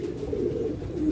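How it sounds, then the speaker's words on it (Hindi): A young pigeon perched and cooing, a low soft continuous coo heard close and alone. "यह कबूतर देखो 2:30 बजे बैठा है नवा ही कबूतर"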